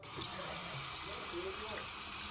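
Hot water runs steadily from a tap during a water heater replacement, a continuous broadband rushing that holds level for the whole stretch with no pauses.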